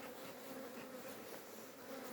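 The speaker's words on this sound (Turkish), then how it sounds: "Arılar bana da çokmaya başladı." A dense swarm of honeybees hums steadily and close during hive inspection, a continuous buzzing drone with no voices over it.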